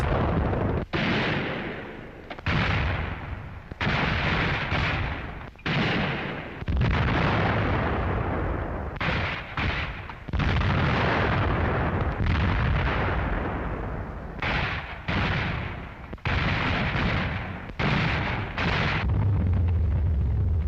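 French artillery fire near Verdun, a long series of heavy booming blasts and rumbling bursts, loud and sustained with brief gaps between volleys and no voices.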